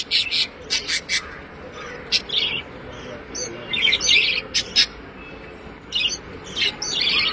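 Budgerigar chicks in a small cage chirp in quick, high bursts, some in short clusters, over a steady low background hum.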